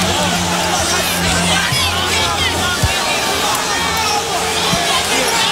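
A big basketball arena crowd at an NBA Finals game between the Lakers and Celtics roars in a loud, dense wash of voices, with a sharp thump partway through and the noise staying high the whole time.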